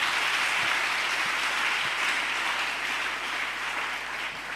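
A church congregation claps in sustained, dense applause that fills the room evenly, lasting the whole stretch and easing slightly toward the end, with no distinct voices over it.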